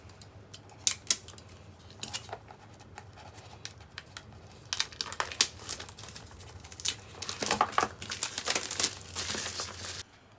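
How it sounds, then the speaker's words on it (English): Plastic wrapping is peeled off a FiiO FH3 earphone box in close, irregular crinkles and snaps that grow busier toward the end, with no talking. "let's start by unwrapping the FiiO"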